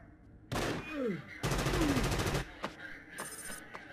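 Gunfire in the tactical video game Frontline Tactics: two loud bursts of rapid shots, each about a second long, then a few sharper single cracks, with faint background game sounds between.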